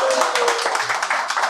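Brisk crowd clapping at a lucky draw for an NPL cricket ticket giveaway, a quick run of sharp hand claps mixed with voices.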